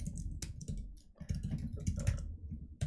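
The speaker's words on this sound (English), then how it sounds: "let me finish typing this part real quick." Someone types quickly on a computer keyboard, with a close, soft run of irregular key clicks and taps.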